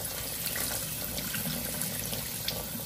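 Water from a kitchen sink tap runs and drains off shrimp in a colander, a steady close hiss and splash lasting the whole clip with no talking.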